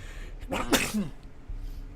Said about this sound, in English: sorry. Sometimes you just gotta sneeze.